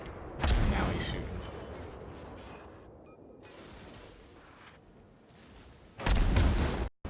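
Warship guns firing in a World of Warships naval battle, two heavy booming salvos, one near the start and another near the end, with a lower rumbling wash of battle noise between them.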